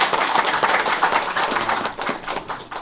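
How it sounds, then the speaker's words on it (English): An audience at a financial literacy investment seminar gives a round of applause, a fairly close, steady patter of many clapping hands that rises and falls slightly over a few seconds. "Let's give these guys a round of applause."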